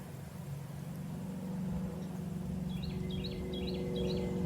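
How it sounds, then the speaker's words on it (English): A bird repeats a short chirping call several times in the second half, heard faintly over a steady low hum of traffic or engine noise. "Do you hear that bird?"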